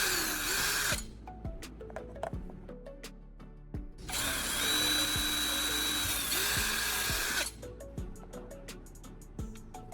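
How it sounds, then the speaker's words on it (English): A cordless power drill bores holes through a metal U-bracket in two long high-pitched whining runs, separated by brief pauses and clicks as the bit stops and the tool is repositioned. "I'm using my drill to make a hole on each side of the U-bracket."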